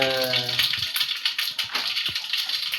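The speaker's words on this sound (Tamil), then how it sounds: "கடுகு நல்லா பொரிஞ்சோடனே நல்லா அந்த இது மாதிரி சவுண்டு வரணும்" Mustard seeds splutter and pop in hot oil while cooking a vegetable kuzhambu, making a dense, continuous sizzling crackle close by with scattered sharper pops throughout, and a faint tonal hum at the start.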